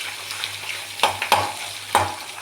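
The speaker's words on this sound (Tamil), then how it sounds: "கொஞ்சம் அப்படி வதங்கட்டும்." Dried anchovy fry sautéing in a pan gives a steady low sizzle, broken by three or four sharp, close spatula scrapes and knocks, with no voices.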